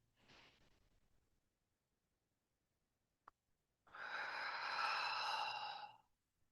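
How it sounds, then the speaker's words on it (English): Slow, deep breathing during a guided meditation: a soft exhale, a long pause with a tiny click, then a longer, louder breath with a breathy, slightly voiced texture, close and alone. "So breathing in nice and slow."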